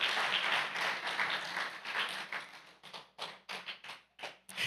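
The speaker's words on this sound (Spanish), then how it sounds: "Démosle un aplauso. Pero bien fuerte." A church congregation claps loudly, dense sustained applause that thins into separate rhythmic bursts of clapping toward the end, close and energetic with no talk over it.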